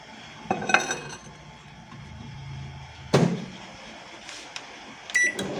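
A repaired microwave oven with water inside runs with a low hum beneath scattered clinks, knocks and a door-like thud, fairly close and with no speech.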